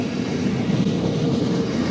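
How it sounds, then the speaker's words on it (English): Metlink commuter train in Wellington running close by, a loud steady rumble of rail cars with a continuous rolling roar. "Maybe I should get on this train."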